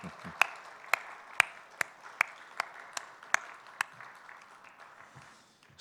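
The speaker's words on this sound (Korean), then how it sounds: "박수로 10초 동안 크게 축복해요" Sparse clapping from a small church congregation at a Wednesday worship service, with a dozen sharp individual claps at an even beat and a few faint murmurs in a quiet room.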